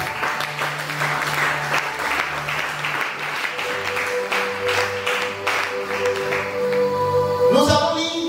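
A congregation claps and cheers steadily in a church during a French-language sermon, a sustained round of applause with an organ or keyboard holding chords underneath.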